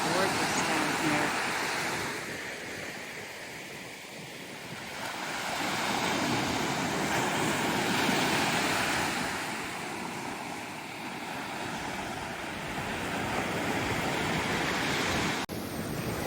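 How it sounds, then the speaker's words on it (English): Surf rolls onto a white sandy beach at Hirtles Beach, Nova Scotia, a steady broad wash of waves that swells and recedes over several seconds, mixed with wind buffeting the microphone. "This is beautiful white sandy beach."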